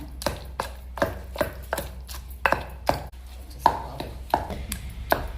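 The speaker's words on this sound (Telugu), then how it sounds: "ముందు పచ్చిమిర్చి టమాటా వేసి కొద్దిగా మెదిగిన తర్వాత దొండకాయ ముక్కలు వేద్దాము" Green chillies and tomato are pounded for a village-style stone-mortar chutney, giving about a dozen sharp, irregularly spaced thuds against a quiet low hum, with no voices.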